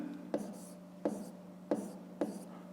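A pen scratches out letters in a crossword grid in four short, evenly spaced strokes, close and quiet against a low hum.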